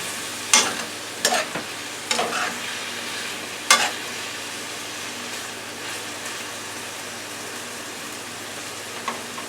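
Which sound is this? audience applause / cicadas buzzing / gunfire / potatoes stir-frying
potatoes stir-frying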